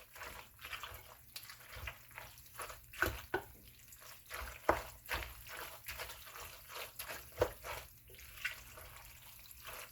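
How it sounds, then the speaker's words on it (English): Water trickles and splashes unevenly into a cup in a home kitchen, quiet and close, with small irregular drips and pours and no talking. "Some water into my cup."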